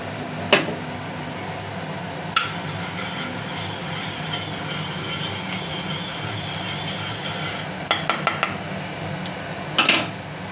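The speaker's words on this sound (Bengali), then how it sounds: "এইবারে আমি এটাকে একটুখানি কড়াই নেড়ে নেব" Stirring a coconut and spice filling in a wok with a little white oil, metallic scraping and clinks over a steady hiss, with sharp scrapes at intervals and a cluster of knocks near the end.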